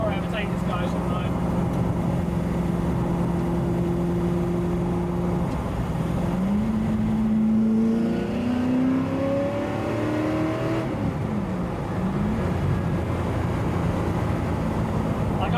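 Ford GT40 sports car engine droning steadily at cruise on a motorway, a continuous low hum with the pitch rising through gear changes midway, heard close from inside with someone talking over it.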